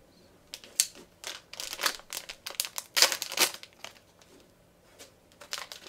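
Laptop packaging for an Acer Aspire S3 being cut open, giving a run of close, uneven crinkling and slicing sounds with sharp rustling bursts and short pauses, no talking.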